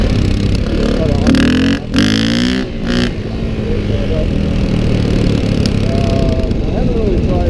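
A motorcycle engine revs hard in bursts as it pulls second-gear wheelies on dirt, with the throttle rising and falling over a steady engine drone.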